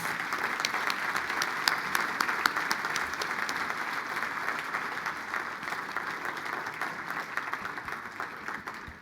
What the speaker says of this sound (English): Please receive Nathan with applause